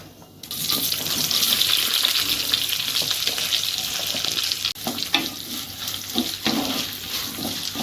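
Onions sautéing in oil for a Kerala-style chicken curry, a loud continuous hiss of frying with occasional stirring knocks close by; no voices.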